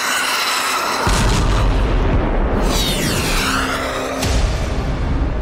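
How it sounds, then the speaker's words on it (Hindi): A missile attack explosion sound effect gives a heavy, sustained roaring boom with rumbling low end and a whooshing sweep midway, loud throughout. "missile attack"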